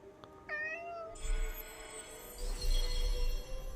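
A cat in the video game Forspoken meows in a short, rising, tonal cry, followed by a second, higher meow against a faint ambient game background with low thumps.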